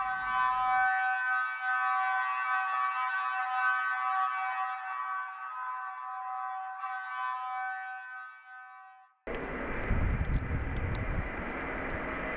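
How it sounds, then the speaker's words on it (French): A mine siren wails in a steady, loud tone from a distance, holding for about nine seconds before cutting off into a burst of broad rumbling noise. "Une sirène retentissait depuis la mine."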